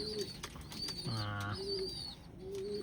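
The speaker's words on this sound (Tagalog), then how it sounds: "Nandyan sa malaking kulungan na yan, may naging puti akong kalapate." A white pigeon in a large cage gives a single soft, low coo at close range, with faint chirps and quiet background noise around it.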